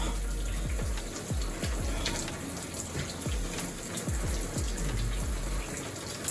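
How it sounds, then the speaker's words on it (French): Cold water from a shower runs in a steady, close, continuous hiss and splash with small irregular drips and gurgles, no voices over it. "me plonger la tête directement sous l'eau froide"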